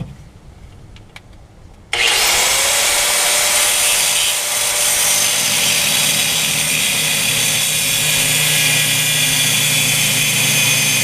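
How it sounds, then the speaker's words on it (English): A power cutting tool slices through the exhaust muffler on a Mitsubishi Eclipse. It starts abruptly after a quiet moment, then holds a loud, continuous, close grinding whine for several seconds. "So now I'm going to go up there and cut the fart can off."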